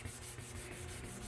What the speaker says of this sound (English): Doing it with a sanding block gives you a plane that you can work with